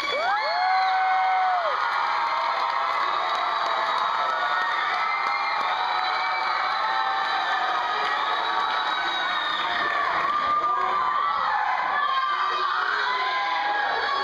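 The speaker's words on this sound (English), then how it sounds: "can you applaud these students for that?" An audience at a dance recital cheering and whooping for student performers, children's shouts and high excited voices forming a loud, sustained crowd roar, with faint clapping mixed in throughout.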